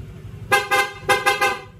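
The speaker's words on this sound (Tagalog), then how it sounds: "yung PIA horn with rapid horn setup" A vehicle fitted with a PIA horn on a rapid horn setup blasts two quick pairs of loud, bright honks, each toot short and punchy, over a low idling background.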